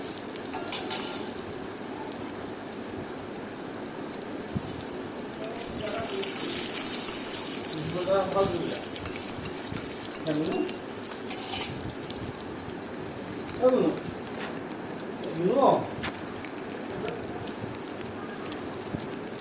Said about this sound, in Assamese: আলুখিনি অকণ ভাজি লওঁ।